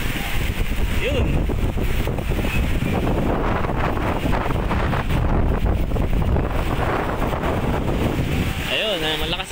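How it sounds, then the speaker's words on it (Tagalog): Strong typhoon wind buffets the microphone beside the Marikina River, a steady roaring rush with gusty swells that never lets up, loud and close throughout. "malakas ang hangin."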